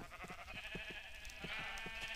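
Sheep bleat in the Minecraft video game on a farm alongside cows and chickens, a faint series of short repeated bleats over a quiet background.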